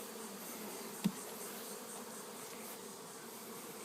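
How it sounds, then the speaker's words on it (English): Many bees buzz softly in the air, a faint steady hum with one brief thump partway through. "few thousand bees in the air that don't belong to any of these boxes here."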